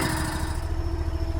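A small engine idling as it warms up on a cold day, a steady close rumbling drone with a faint higher whine, with no talk over it.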